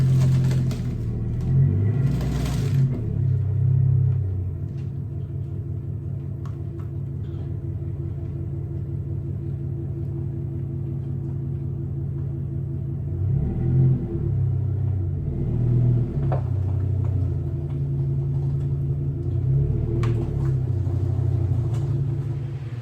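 A truck backs a pump jack trailer into a shop. A low, steady engine rumble idles near the listener, broken by a few short revs early and again later, with no talking.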